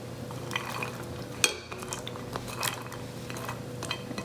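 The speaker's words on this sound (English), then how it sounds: "again we'll mix until it's all incorporated" A spoon stirs a tuna casserole mixture with peas and celery in a bowl, giving soft wet scraping and squelching with a single sharp clink of utensil against the dish partway through.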